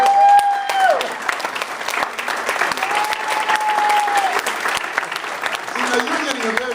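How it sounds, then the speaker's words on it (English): Banquet audience applauding loudly and steadily in a large room, a dense wash of clapping that runs throughout with a faint tonal whistle or feedback line drifting above it. "You're getting a better applause than I got."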